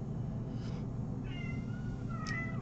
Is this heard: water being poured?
no